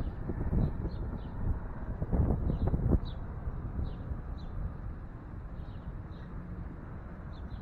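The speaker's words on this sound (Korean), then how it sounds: "새소리도 들리고요." Small birds chirp in short, repeated calls along the Hudson River shore at Edgewater, New Jersey. The calls are faint and sit behind steady river wind and breezy rustle, with a slightly louder gusty stretch near the start.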